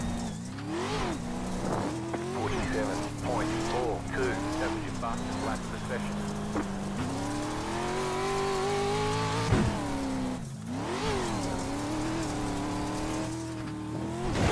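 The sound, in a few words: race car engine in the iRacing video game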